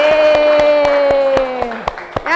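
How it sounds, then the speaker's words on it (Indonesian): Students in a classroom clap together in a quick, evenly spaced rhythm of sharp, close claps beneath a sustained chanting voice. "Oke, tepuk tangan lagi."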